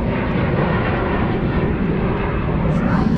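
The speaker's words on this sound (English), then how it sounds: "So you can watch planes take off from the water." An airplane taking off from Boston's Logan Airport, heard from a boat on the water, roars steadily and loudly, a continuous broad engine rumble close by with no breaks.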